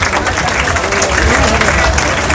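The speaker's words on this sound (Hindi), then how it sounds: "जोरदार तालियां बजती रहे जब तक ये बिटियां सम्मानित करते रहे" Loud, dense applause from a crowd gathered to honour elders at a ceremony, continuous clapping filling the whole stretch with no pause.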